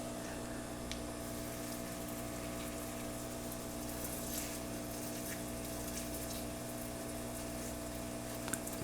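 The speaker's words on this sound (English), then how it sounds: "And then we're gonna need to give it some water" Water runs steadily over a tray of lettuce microgreens, a constant soft gushing with a low humming undertone that holds unchanged for several seconds.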